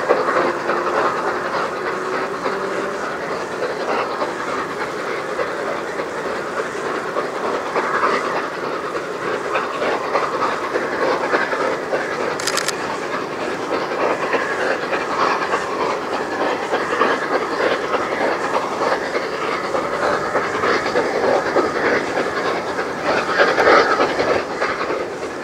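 Flying Scotsman steam locomotive hauling its train past Ribblehead in Yorkshire, a continuous rolling rumble and rhythmic clatter of carriages heard from a distance, with a brief sharp click midway and no talking.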